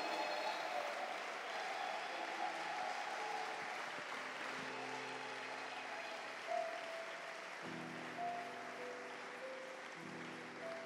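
A church congregation applauds at length, a dense, even wash of clapping that fills the room, with sustained tones from an organ or keyboard running underneath.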